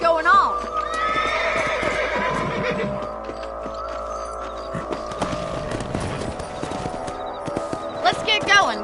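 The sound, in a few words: horses riding, hoofbeats in video game Red Dead Redemption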